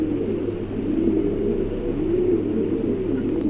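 A pair of pigeons cooing close by, soft low rolling coos repeating steadily over a constant background hum, with no talking.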